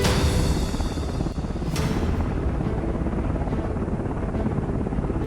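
A passenger drone taxi flies overhead, giving off a loud, steady whirring rotor drone that holds throughout with no talking.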